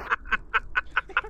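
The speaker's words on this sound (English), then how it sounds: "Holy shit, the duck!" A giant duck in VRChat gives six rapid, evenly spaced nasal quacks within about a second, close and clear with no speech over them.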